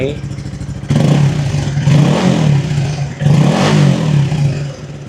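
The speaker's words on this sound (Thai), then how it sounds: "เรามาลองเร่งเครื่องกันสักนิดนึงนะครับ" A Honda CB150R motorcycle (2017) engine revs up twice nearby, rising to a loud roar each time before settling back to idle.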